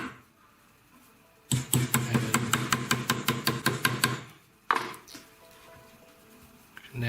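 925 silver wire is shaped on the pointed end of a ring mandrel, heard as a quick, even run of about a dozen sharp metallic taps and then one separate strike, close and clear in a quiet room.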